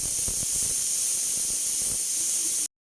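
A pressure cooker on high flame, cooking goat intestine gravy, gives off a steady loud hiss of escaping steam, broad and continuous before cutting off abruptly near the end.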